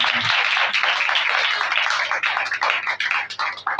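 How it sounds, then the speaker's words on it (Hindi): A congregation at a healing meeting church service claps loudly in praise of Jesus Christ, a dense, steady roar of many hands that holds for the whole stretch and thins slightly toward the end. "इस कुदरत वाले फतामंद खुदा यीशु मसीह के नाम के लिए जोरदार तालियां बजाएं"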